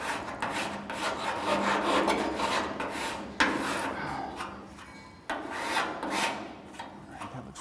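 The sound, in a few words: metal file filing burr off a metal edge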